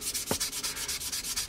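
Rhythmic scratchy rubbing of a coarse sanding sponge against a 1/48 scale plastic P-40N Warhawk model, about a dozen even back-and-forth strokes, close and fairly quiet, with one brief knock.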